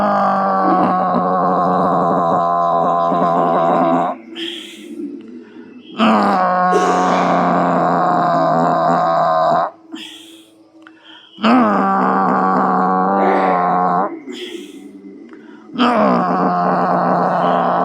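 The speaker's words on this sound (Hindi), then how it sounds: "अब हम उज्जाई 8 टाइम से छोटे बच्चे के खर्राटे की ध्वनि निकालेंगे गला से" Ujjayi yoga breathing with the chin tucked to the chest, producing a snore-like throat sound: three long, sustained voiced groans, each several seconds, separated by short quiet pauses.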